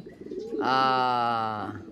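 A racing pigeon gives a loud, close, drawn-out coo that swells and fades, with a softer murmur just before it.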